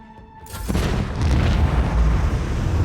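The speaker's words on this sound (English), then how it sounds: "commence the symphony of macro cannons" Heavy macro cannons open fire in the Warhammer 40K: Rogue Trader video game, a sudden deep boom erupting into a sustained, loud rumbling barrage that rolls on without pause.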